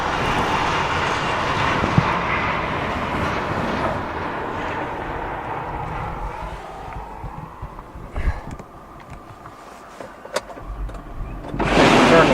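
CSX freight train Q367 rumbles steadily past during a New York blizzard, its broad continuous roar fading toward the end of the train, with a few sharp clanks and a gust of wind near the close.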